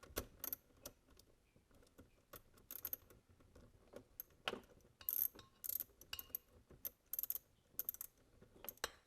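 Socket wrench ratcheting a long-stuck glow plug out of a 1.15cc nitro RC engine, a string of quick close clicks and short metallic rattles in uneven bursts, quiet overall with no speech.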